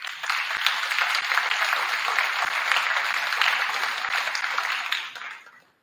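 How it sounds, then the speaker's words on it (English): A banquet audience in a school or community hall gives a steady round of applause, dense and sustained for about five seconds before it tapers off and fades out at the end. "I think that deserves a round of applause."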